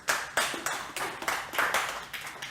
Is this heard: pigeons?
no